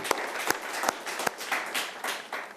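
Audience applause at a poetry gathering, a short burst of mid-distance clapping with a few sharper individual claps standing out, fairly steady over a couple of seconds.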